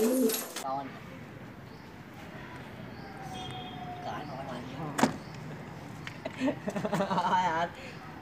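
Pigeons coo on a rooftop, their soft calls mixing with light rustling, a sharp knock midway and a busier stretch of fluttering and calls near the end.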